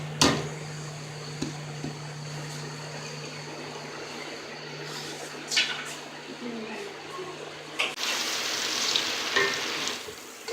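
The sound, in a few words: onions frying in hot oil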